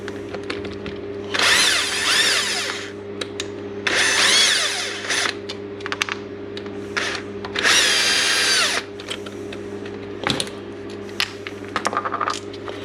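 Power drill or impact driver spinning out the three cam head cover bolts on a DRZ 400 engine, three loud bursts of whirring with a few short blips and clinks between them, close up and with no talking.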